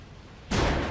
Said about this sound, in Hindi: ये तो धमाके की आवाज थी।